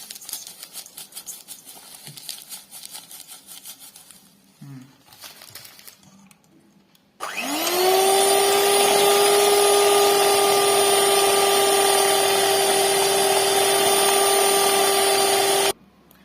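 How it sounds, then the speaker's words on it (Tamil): An electric beater whips a mixture of vanilla extract and sugar, starting with a sharp spin-up and then a loud, steady motor whine that holds for several seconds before cutting off, after a stretch of quieter handling noise. "கைவிடாம நல்லா 5 மினிட்ஸ்க்கு நல்லா பீட் பண்ணீங்கன்னா நல்லா ஒரு ஒயிட் கன்சிஸ்டன்சியா வரும்"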